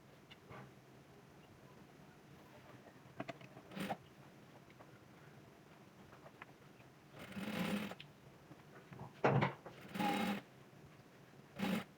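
A sewing machine stitches a zipper onto a kameez in a few short, quiet runs, each a brief whirring burst separated by silence and small clicks of the fabric and mechanism.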